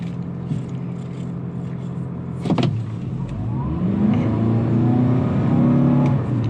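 A 2019 Toyota RAV4 Hybrid pulls away from a stop, its engine note rising steadily in pitch and strength over a few seconds, heard from inside the cabin with a brief clunk just before.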